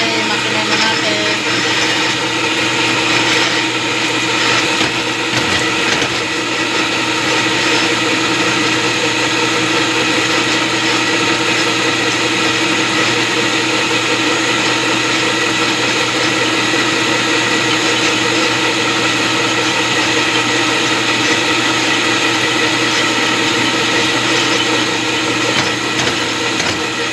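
A dough mixer machine kneading choco bread dough, running with a steady loud motor drone and mechanical whir that holds unbroken for nearly half a minute, with no voices over it.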